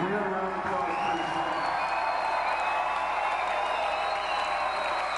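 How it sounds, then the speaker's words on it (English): A concert audience at a show applauds and cheers, producing a steady, sustained wash of clapping with whoops and shouts throughout, fairly dense and continuous. "can we have a round of applause, please?"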